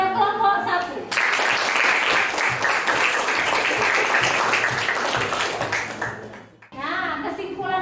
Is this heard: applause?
yes